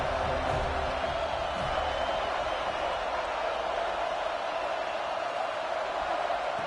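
A home crowd at a college football game sends up a steady, dense roar of cheering, loud and unbroken throughout, with no clear individual voices.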